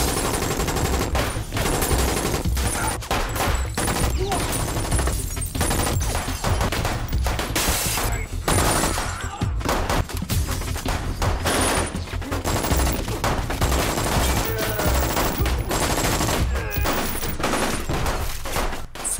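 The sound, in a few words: gunfire in a film office shootout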